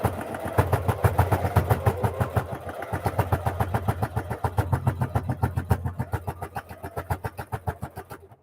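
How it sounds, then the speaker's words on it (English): A sewing machine stitches down the pockets of an apron about an eighth of an inch from the edge, a rapid, steady mechanical chatter heard up close and running continuously with no talking. "So I'm sewing down the pockets about 1/8 of an inch down."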